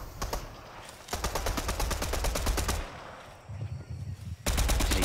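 Automatic gunfire from the Fortnite video game rattles in loud rapid bursts, pausing around the middle and resuming strongly at the end, with faint voice chat underneath.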